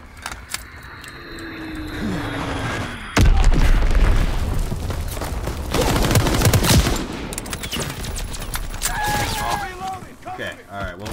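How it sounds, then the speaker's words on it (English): Bomb explosions and gunfire in a World War 2 video game: a heavy booming blast lands mid-clip, followed by rattling automatic fire and further loud impacts, with scattered clanks and faint whistling tones around them. "Enemy bomb incoming!"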